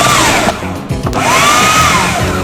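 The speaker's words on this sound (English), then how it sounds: "For the cauliflower rice, I'm going to use the food processor because I like things fast" A food processor whirs loudly as it blitzes raw cauliflower into rice, a steady high motor drone with a brief dip and pitch sweep as the load shifts, continuous and close with no talking.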